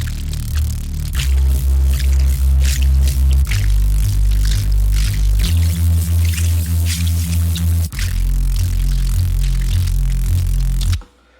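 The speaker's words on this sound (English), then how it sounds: "inside this Harmor I have" Thick, detuned synth Reese bass built in Harmor, with a sampled recording of trickling water layered over it for a squishy texture; a steady, loud bass drone shifts pitch in stepped notes across the whole passage, then cuts off abruptly.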